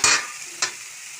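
Fenugreek leaves sizzle in hot oil while a spoon scrapes and stirs the pan, two short close bursts of frying with quieter sizzle between them and no talk.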